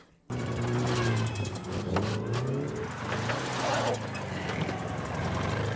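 Engine of a car driving on its own in a film scene from Harry Potter and the Chamber of Secrets, a steady loud motor drone with some revving, playing continuously with film sound and a dog nearby.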